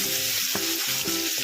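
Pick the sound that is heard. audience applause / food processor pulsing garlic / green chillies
green chillies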